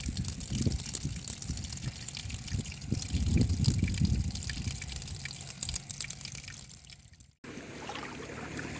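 Water trickles and splashes continuously from a small leak at close range, a busy liquid patter that dips briefly near the end before resuming.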